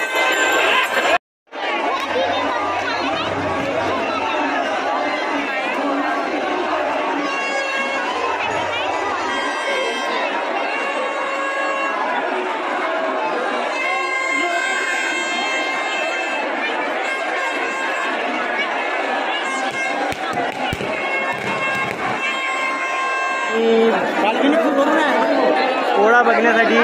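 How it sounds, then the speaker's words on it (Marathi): A dense crowd chatters and murmurs on a packed street at the Shankarpur bull Pola festival near a Shiva temple, a steady loud babble of many voices that continues without a break. "खूप गर्दी झालेली आहे"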